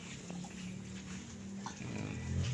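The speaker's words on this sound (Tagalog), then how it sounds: "Meron sila ditong alagang baboy." Large White crossbreed pigs on a farm make low grunts and a brief squeal over steady background noise, continuous and moderately loud with no talk.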